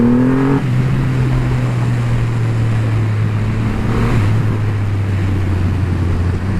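A 2500 cc Triumph Rocket III GT motorcycle pulls hard through hairpin bends with a loud, steady engine drone that shifts pitch as it accelerates, blended with wind rush.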